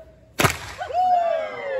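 A single loud, sharp fire whip crack rings out at a Texas Renaissance Festival whip show marking the 50th anniversary in 2024. Quiet comes before it, and a rising vocal tone follows the snap.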